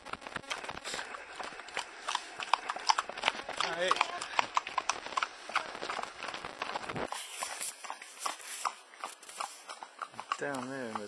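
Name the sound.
horses walking, hooves clip-clopping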